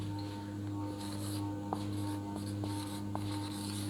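Marker writing numbers in blue on a board during a class 5 mathematics lesson, soft scratchy strokes with a few faint taps over a steady low electrical hum.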